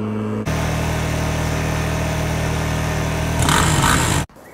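A small gasoline vehicle engine runs steadily with a buzzing, high-pitched drone, growing slightly louder near the end before cutting off abruptly.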